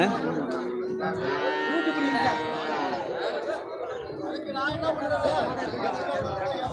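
Sindhi cattle at a busy livestock market lowing over steady crowd chatter and hubbub, with moos mixed into the continuous background of voices.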